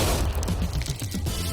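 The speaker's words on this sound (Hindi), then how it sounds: "इस धमाके ने सच में मुझे डरा दिया।" TNT blasts open a safe with an egg inside: a deep, booming, rumbling roar fills the whole short moment, broad and loud from start to finish with no talk.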